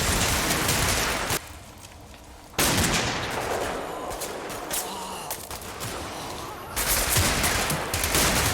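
German MG-34 gunfire in the Combat Mission wargame, dense sustained rattling bursts with a brief lull, then heavy firing resumes, loud and near.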